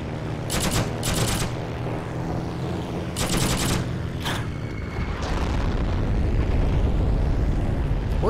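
Light machine gun fire in a video game arrives in several loud, rapid bursts of varying length between booms and rumbling blasts, with dense battle noise throughout.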